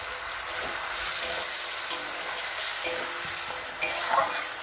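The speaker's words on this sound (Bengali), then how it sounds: "একটু মশলাটা আস্তে আস্তে কষি" Spice masala with chopped tomato cooks in hot oil for a vegetarian curry, giving a bright, continuous sizzle with a few light scrapes of the spatula as it is stirred.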